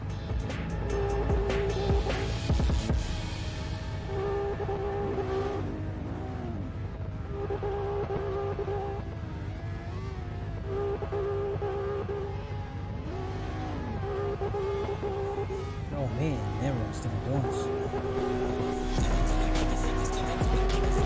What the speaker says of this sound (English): Man, everyone's doing donuts.